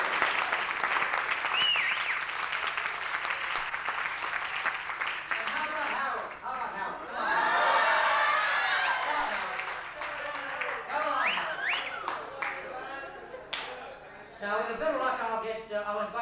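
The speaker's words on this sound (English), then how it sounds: "Give her a big round of applause." Audience applause at an Ansett Airlines cabaret show, a steady wash of clapping that swells midway and runs for about sixteen seconds, with voices and crowd noise mixed through it.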